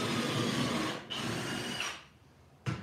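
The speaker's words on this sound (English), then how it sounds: "And then just drill down in." A power drill whirs steadily as it bores pocket holes into wood, briefly stops, runs again, then winds down before a short final burst.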